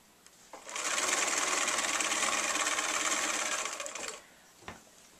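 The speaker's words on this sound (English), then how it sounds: "I'm going to take and push the two blocks right up and begin sewing." Sewing machine stitching quilt blocks together, a close steady whirring run of about three and a half seconds that starts and stops cleanly, followed by a small click.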